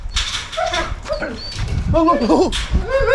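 A Kangal and a black wolf dog play together, giving whimpers, yips and short excited vocalizations up close while people talk over them.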